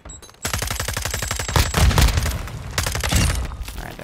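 Rapid automatic weapon fire in Modern Warfare 2, a loud, close burst of evenly spaced shots that runs almost unbroken for several seconds, with a few heavier cracks mixed in.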